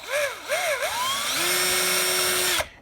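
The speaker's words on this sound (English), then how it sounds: "Make sure your drill chuck is tight." A power drill whirs up and down in short bursts, then holds a steady high whine for over a second before cutting off abruptly.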